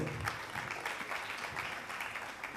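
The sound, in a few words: audience applause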